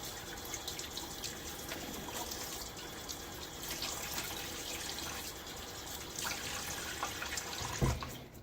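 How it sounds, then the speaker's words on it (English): A razor rinsed under a running tap, giving a steady wash of water with splashing and brief drips, close, continuous and fairly loud, with a small knock near the end. "All right, I'm gonna rinse this off."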